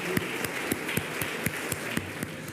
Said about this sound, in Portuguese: Se você puder louvar ao Senhor com mais uma oferta de aplausos